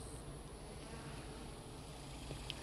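A dense, steady buzzing of many bees in a hive fitted with an in-hive sugar-water feeder, continuous and close, with a low hum beneath.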